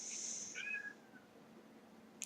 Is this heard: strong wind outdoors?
no